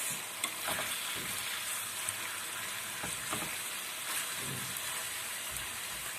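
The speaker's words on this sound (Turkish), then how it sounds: "Hindilerimizi kızartıyoruz." Turkey meat sizzles steadily in a hot pan, a constant crackling hiss with occasional soft stirring clicks, fairly quiet and with no voices.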